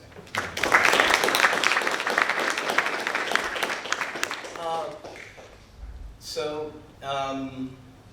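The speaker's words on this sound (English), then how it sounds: "another round of applause for Lexi" Audience applause at an alumni literary reading, dense clapping for several seconds that thins out, followed by someone speaking close to the microphone.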